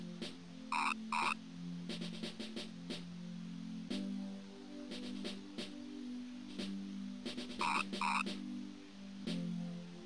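Frog croaks from the video game Mother 3 come in two short burbling bursts, separated by a sparse series of clicky game blips over a low steady background tone.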